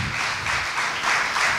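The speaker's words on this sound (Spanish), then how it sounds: "Denle un aplauso al Señor." A church congregation applauds, a dense wash of many hands clapping together, loud and sustained through the short moment with no talking over it.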